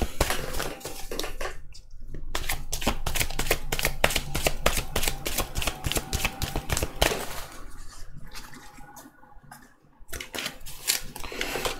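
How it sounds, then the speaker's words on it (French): Tarot cards being shuffled and drawn, a dense run of rapid papery flicks and riffles that goes on almost without a break, close and fairly loud, with a couple of brief pauses. "On va tirer 3 cartes."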